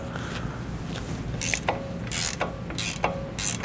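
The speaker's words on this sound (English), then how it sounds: "It's an 18mm wrench." An 18mm wrench loosening a sway bar link on a 2020+ GM 2500 pickup during a lift kit install, giving several short metallic ratcheting bursts at close range, spaced about a second apart.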